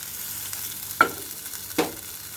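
Fish and eggs sautéing in a pan give a soft, steady sizzle, broken by two sharp clinks of a utensil stirring against the pan, with no one talking.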